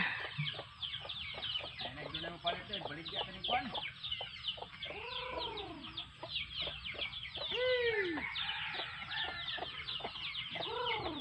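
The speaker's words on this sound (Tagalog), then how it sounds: "Si Boy Bagsik ug ang iyahang mga alagang manok Bisaya." Several Bisaya native chickens cluck and chatter continuously, with overlapping calls, a possible distant crow, and steady outdoor background noise in the hills.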